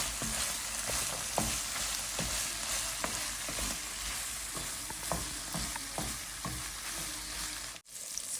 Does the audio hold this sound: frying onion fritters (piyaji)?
yes